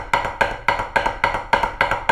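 Bright taps on a practice pad in a roll where the paired strokes land unevenly, the rhythm slightly lopsided, heard up close and alone.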